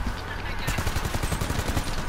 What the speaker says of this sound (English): Military rifle is a beast.